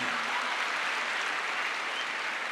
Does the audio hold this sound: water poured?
no